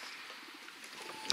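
Racing pigeon cooing close by in a loft, soft low coos over quiet background hiss, with a sharp clatter at the very end.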